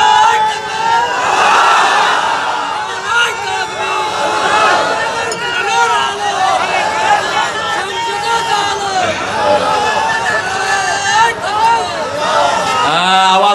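Large crowd at an outdoor religious gathering in Kaliganj, Satkhira chants takbir slogans together, loud and sustained rhythmic shouting in massed unison voices that rises and falls continuously.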